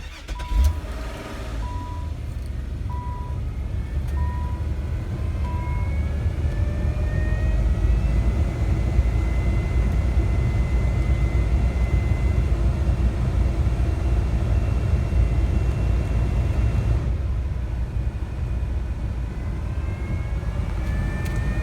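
A replaced blower motor in a 2001 Nissan Maxima runs inside the car with a steady whooshing drone and a faint whine, and a brief click at the start.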